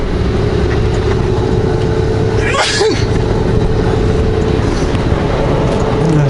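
A single loud sneeze bursts out from the driver's seat over the steady low rumble of an idling car engine, heard close up inside the vehicle.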